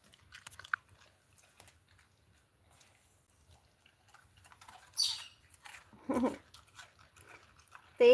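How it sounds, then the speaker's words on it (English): Dog crunching small pieces of cookie, a few crisp close crunching bites scattered among quiet pauses, with brief rustles and a squeaky sound near the end. "You can hear the crunch with Looney"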